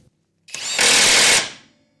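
A Masterforce 1/2-inch high-torque impact wrench removing a vehicle axle nut, one short loud burst of rapid hammering lasting under a second, close up and alone.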